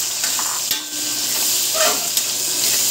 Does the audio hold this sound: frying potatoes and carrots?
yes